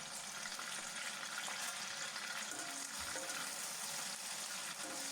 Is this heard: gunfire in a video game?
no